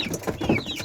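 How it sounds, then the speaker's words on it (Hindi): Chicken chicks in a coop in a small Uttarakhand village, cheeping in a busy, overlapping chorus at close range. "इतने सारे मुर्गियों के बच्चे भाई।"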